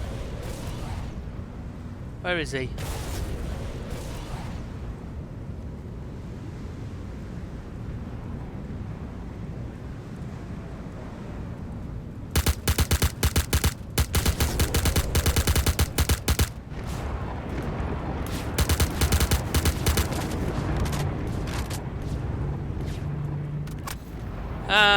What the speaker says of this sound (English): Oh, now he's blowing my ship up.